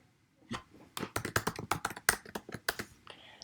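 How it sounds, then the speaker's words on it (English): Rapid keystrokes tap on a computer keyboard as a password is typed, a dozen or so crisp clicks in an uneven rhythm, close and clear with no voices. "you're going to type in your password"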